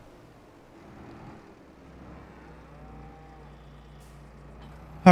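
In the farming video game Farming Simulator 22, cattle give a faint, distant low moo over quiet ambient hum, with a brief loud bump at the very end.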